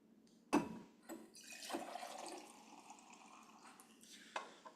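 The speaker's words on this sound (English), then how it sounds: "I take this water and it's boiling hot and I pour it into this coffee cup like this" Boiling water pours into a coffee cup with a soft splashing rush after a sharp clink, the stream trickling and gurgling at close range, fairly quiet.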